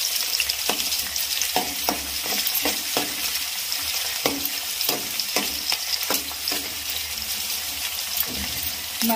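Chopped onions fry in hot oil in a pan, producing a loud, dense, continuous sizzle close up, with regular scraping strokes from a spatula stirring through it and no speech.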